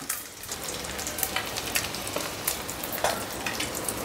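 Egg fried in oil in a pan for a green egg curry, a steady soft crackling sizzle with scattered pops running throughout, fairly close and moderately quiet, no talking.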